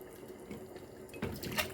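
Cooked lecho, Odessa style, being poured into jars, a soft wet pouring and splashing that thickens toward the end, close and moderately quiet.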